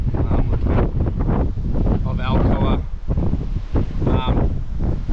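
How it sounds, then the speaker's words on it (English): Wind buffets the microphone in a steady, loud roar throughout, with a person talking over it outdoors on a dam wall. "It's windy today"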